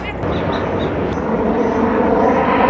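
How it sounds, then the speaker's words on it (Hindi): A helicopter passes overhead on a mountain pilgrimage route, its loud, steady drone continuous throughout, with a voice talking over it and a couple of brief sharp noises near the start. "आज के दिन का दूसरा चक्कर है ये हेलीकॉप्टर का"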